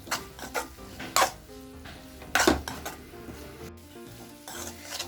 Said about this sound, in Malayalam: എന്നിട്ട് നമുക്ക് നന്നായിട്ടൊന്ന് മിക്സ് ചെയ്ത് കൊടുക്കാം.